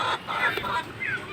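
Desi chickens, said to have a cold during rainy weather, give short close clucks and murmuring calls in quick succession over faint background noise.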